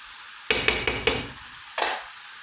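Bitter melon and egg stirred in a frying pan, four quick spatula scrapes in a row followed by a pause and one more stroke, close and sizzling, with no talking.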